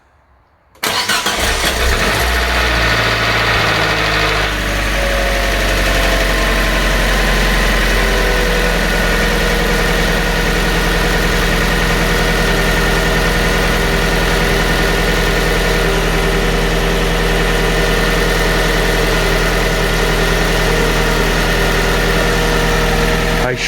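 A car engine cranks and catches after a timing belt change on a 67,000-mile engine that has gone without oil for a long time, then settles into a loud, steady idle that runs on close by for over twenty seconds.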